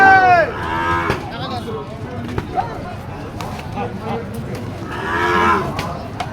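At a busy cattle market in Ambari, Dinajpur, a Sahiwal bull gives a short moo, then a second drawn-out call near the end, while people talk and clatter in the background.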